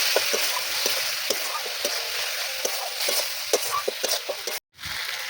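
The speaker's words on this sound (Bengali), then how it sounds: "সেই যে বন্ধুরা দেখুন মশলাটা আমি ভালো করে কষিয়ে নিয়েছি" A spice paste of grated tomato with coriander and cumin powders sautés in a pan, giving a continuous sizzling hiss punctuated by regular stirring scrapes, cut off briefly near the end.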